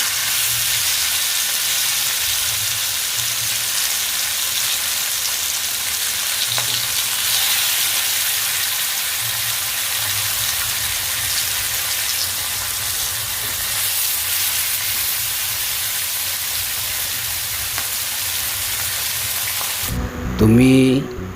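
A medium-sized fish sizzles steadily in hot oil for a village-style fish fry, a loud continuous crackle and hiss near the source, with a brief clatter of utensils near the end.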